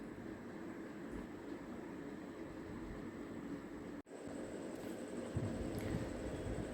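Trains rolling past a busy railway station platform, a steady broad rumble and rail noise filling the whole stretch without letup, with a brief dropout partway through.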